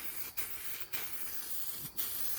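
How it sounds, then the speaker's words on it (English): Filler primer sprayed from an aerosol can onto a scratch repair on a 2016 RAM 1500 pickup, a steady close hiss running throughout with three brief pauses between bursts. "I'm going to spray it this direction so I don't get it underneath"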